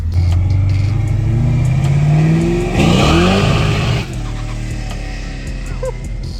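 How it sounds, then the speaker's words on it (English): A Mustang revving and pulling away at a cars-and-coffee exit, a loud, close engine roar rising in pitch, then easing off with a brief turbo blow-off whoosh and a lower rumble trailing after. "Dang, look at the blow-off valve."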